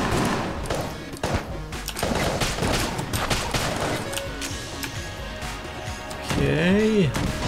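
Gunfire in the video game Enter the Gungeon, a single-shot gun firing repeated sharp reports amid busy game sounds, explosions and effects, ending with a warbling tone.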